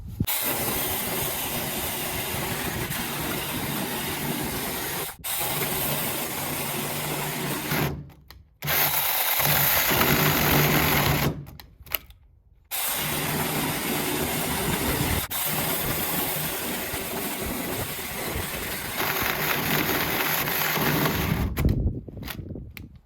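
An EnBrilite mini chainsaw running on a Makita 18V battery gives a steady high whining buzz in long runs, cutting out briefly a few times before restarting, close and loud.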